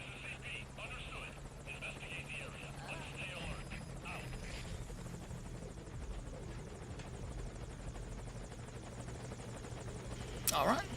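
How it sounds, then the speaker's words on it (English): A helicopter from the video game Metal Gear Solid V: Ground Zeroes drones steadily with a thick rotor rumble, holding at a constant loud level, with a sharp burst of noise near the end. "until the helicopter shows up"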